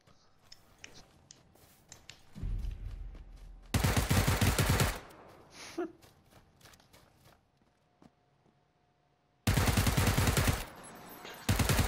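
Two loud bursts of automatic PUBG gunfire ring out close by, separated by quieter shuffling and scattered clicks.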